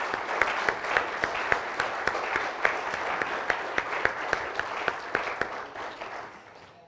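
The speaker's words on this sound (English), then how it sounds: "So let's give them a cheer." Church congregation applauding steadily for several seconds, dense clapping with a few sharper claps standing out, fading toward the end; no cheering voices stand out.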